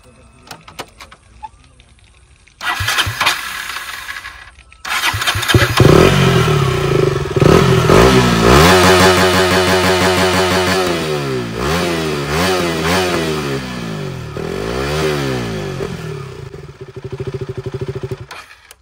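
A KTM Duke 200 BS3 motorcycle with an underbelly exhaust starts up and revs repeatedly, loud and close, with rising and falling engine pitch sweeps after a brief quiet start.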